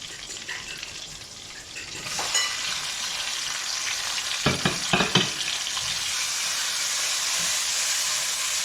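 Tomatoes go into a pan of sizzling onion and egg masala for anda pyaz salan, a steady hiss of frying that rises around two seconds in, with a few sharp stirring scrapes and crackles near five seconds.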